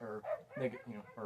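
A few short barks and yips from pet dogs sound close by, mixed with a person speaking indoors.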